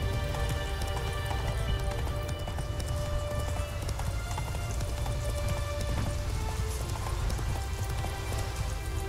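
Hoofbeats of the horse Roach galloping in The Witcher 3, a steady, fast clip-clop rhythm that runs without a break and stays close and loud over a dense ambient bed of outdoor game sound.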